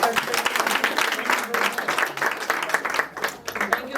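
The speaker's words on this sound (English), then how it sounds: "A hand of applause for our speakers." Audience applause for the speakers at a couples' candlelight dinner, a steady burst of many hands clapping in a room, fairly close and lasting a few seconds.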